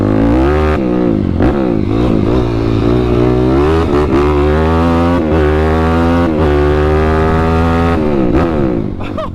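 A Yamaha YFZ450R quad engine revs hard while being ridden, loud and close, rising and falling in pitch through repeated throttle surges with brief drops between.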